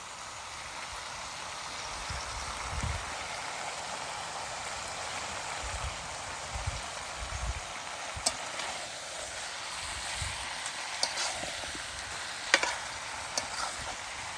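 Ginger paste sautéing in a pan for a chicken dish, a faint, even hiss with occasional soft stirring thumps and a few light ticks near the end.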